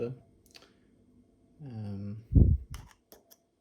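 A screwdriver pries apart the plastic shell of a Toyota Corolla Verso key, giving one loud close crack followed by a few small sharp clicks, after a brief stretch of voice.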